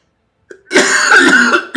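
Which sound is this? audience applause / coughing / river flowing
coughing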